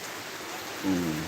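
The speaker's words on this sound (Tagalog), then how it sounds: "Pakalakas ng ulan." Heavy rain in Sorsogon pours steadily as a dense, even hiss close by, with a short voice-like tone rising near the end.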